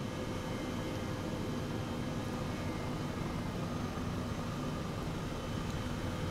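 Airbus H135 helicopter engines in the Microsoft Flight Simulator video game give a steady, dense broadband roar with low hum, constant and unbroken throughout, with no voices.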